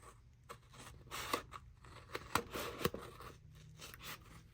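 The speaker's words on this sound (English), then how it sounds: "Use my scissors and cut it off." Scissors snipping through paper, several crisp cuts at an uneven pace, close up with no talking.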